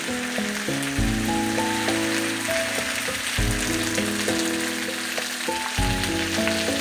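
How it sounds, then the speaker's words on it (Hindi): Okra fries in a frying pan for bhindi gosht, giving a steady close sizzling crackle that runs the whole time under soft background music. "इसमें हमने भिंडी थोड़ी शामिल की है। अब इसको हम फ्राई करेंगे।"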